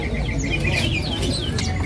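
An oriental magpie-robin (murai) in a bird kiosk gives several short, clear whistled chirps and call phrases, close by over a steady low background hum and faint murmuring.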